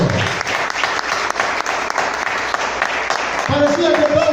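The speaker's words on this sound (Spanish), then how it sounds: "Dale un aplauso." Congregation applauding in a church service, a dense, steady wash of clapping that fills the room, with a sustained musical tone coming in under it near the end.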